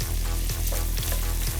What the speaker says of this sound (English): So I'm gonna saute.